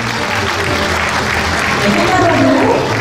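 Steady, dense applause from a large audience at a Korean church awards ceremony in a convention ballroom, sustained and loud throughout with no pauses.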